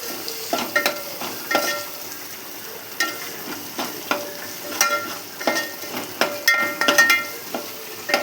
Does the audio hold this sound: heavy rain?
no